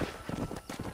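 Horse galloping in Red Dead Redemption, a quick run of close, rhythmic hoofbeats pounding out a fast clip-clop across the whole second.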